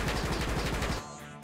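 Rapid automatic gunfire rattles in the video game Rocketbirds, a dense, loud burst of repeated shots that cuts off near the end before another shot starts.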